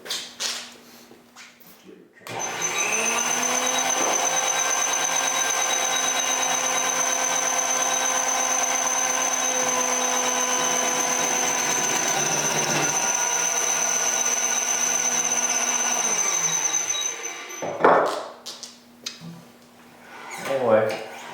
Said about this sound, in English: I wanted to show you how my homemade wood lathe is worked out.